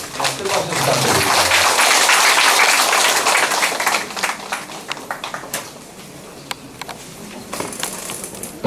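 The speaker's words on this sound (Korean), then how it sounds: "박수 부탁드립니다." Sustained audience applause fills a crowded room at the opening ceremony of a calligraphy exhibition, with dense clapping that slowly thins out and scattered voices emerging beneath it.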